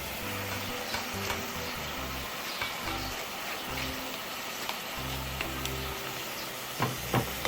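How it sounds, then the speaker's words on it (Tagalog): Beef and seaweed are stir-fried in a pan, with a continuous crackling sizzle and repeated scraping stirs that knock now and then, heard close with no voices. "Na-stir fry natin siya ulit."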